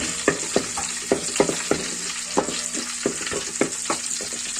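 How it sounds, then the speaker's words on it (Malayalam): Sliced onions sautéing in hot oil with spices for a chicken stew, a continuous bright sizzle close up, punctuated by regular scraping strokes of a spatula against the pan, no voices. "അതിലോട്ടാണ് നമ്മൾ ഉള്ളി വഴിക്കുന്നത്"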